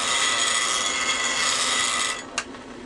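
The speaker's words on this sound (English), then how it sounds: "when I turn on my grinder and spin it like that" A bench grinder sharpens a Sorby scraper blade to a 15-degree cutter angle, a steady loud rasping hiss of steel on the wheel that runs for about two seconds before cutting off, with one brief scrape after.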